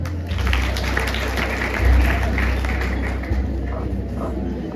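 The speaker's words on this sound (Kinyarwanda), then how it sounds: "mubikomera amashyi." A concert audience applauds in a dense, sustained wash of clapping that swells briefly and holds steady, with a low rumble of the crowd underneath.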